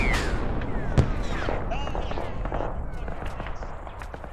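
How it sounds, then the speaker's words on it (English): Sniper fire in a Halo video game: sharp sporadic gunshot cracks, one especially strong early, over a dense crackling battle din with distant weapons and faint radio voices. "We're taking sniper fire from someone."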